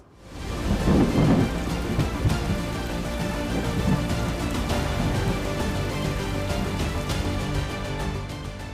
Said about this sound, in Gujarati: વરસી રહ્યો છે ખૂબ જ ધોધમાર વરસાદ